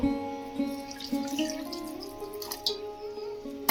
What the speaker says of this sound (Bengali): এতে অল্প জল দিয়ে নেব।